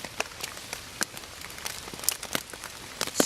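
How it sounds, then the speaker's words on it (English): Rain patters on a tarp stretched over a hammock at a canoe campsite in Illinois, a steady soft hiss broken by sharper scattered drops striking close by, with no voices. "I have a tarp over it. It's keeping me dry. You might be able to hear the rain."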